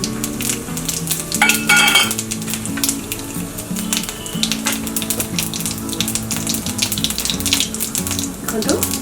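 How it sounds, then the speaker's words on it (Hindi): Cumin seeds splutter and crackle in hot oil in a pan, a dense, loud sizzle with sharp pops running continuously throughout. "तेल गरम हो गला आमे जीरा फुटण पकईदवा"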